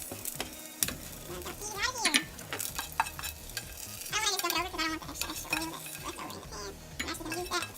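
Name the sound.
sauteing onions and peppers in a pan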